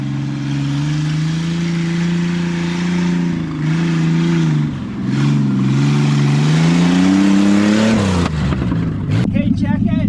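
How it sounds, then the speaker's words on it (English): A Ford Bronco II engine revs and drones off road, its pitch climbing and dipping as the throttle changes, loud and close throughout, with people talking over it. "This thing is insane. It's loud, it's bumpy, and it's torquey as all heck."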